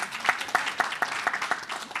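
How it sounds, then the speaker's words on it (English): An audience at a company business-update event applauds, a fairly quiet patter of many hands clapping in uneven bursts for about two seconds. "can I get an applause for that"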